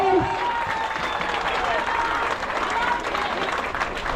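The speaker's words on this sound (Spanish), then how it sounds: "Aplausos, por favor, para él." Crowd applause at a public inauguration ceremony for new roads and sidewalks, a dense steady patter of clapping lasting throughout, with a voice on a loudspeaker briefly audible at the start.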